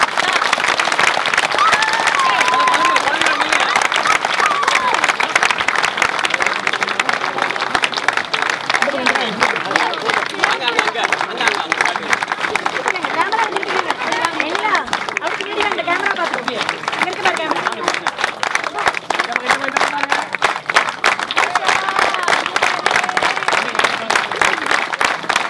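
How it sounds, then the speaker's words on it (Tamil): Sustained audience applause at a Tamil memorial gathering, dense and loud for the full stretch, with crowd chatter and voices running underneath the clapping. "கைத்தட்டல வேகமா"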